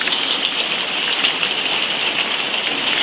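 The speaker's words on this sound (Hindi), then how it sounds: "ये देखिए गैस कितनी तेज़ बारिश हो रही है।" Heavy rain pours down steadily, a dense, loud hiss of drops drumming on surfaces with no pauses and no voices.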